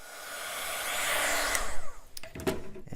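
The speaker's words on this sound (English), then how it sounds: "So I'm gonna turn on my heat gun and heat set that." A heat gun blows a steady airy roar as it heat-sets sprinkles, close and continuous, with a few brief clicks and handling knocks near the end.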